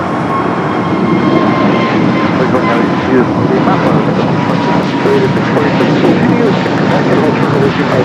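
An Aeromexico Boeing 787-9 Dreamliner from Mexico City touches down on the south side runway at LAX, a loud steady broadband engine roar filling the whole stretch, with a faint voice over it.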